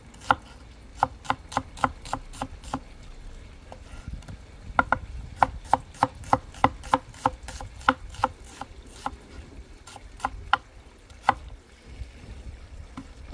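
A knife chops onion on a cutting board in a home kitchen, making sharp rapid knocks in uneven bursts with brief pauses between runs, close and clear with no talk.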